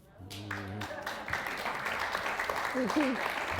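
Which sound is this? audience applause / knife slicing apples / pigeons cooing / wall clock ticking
audience applause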